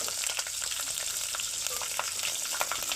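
Chillies, garlic, fenugreek and cumin frying in hot oil, a dense, even crackling sizzle with small spitting pops, close and unbroken, with no one talking.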